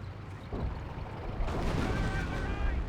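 Anti-tank gun firing in the World War II strategy game Company of Heroes, a deep booming report followed by rumbling battle noise and scattered impacts, moderately loud.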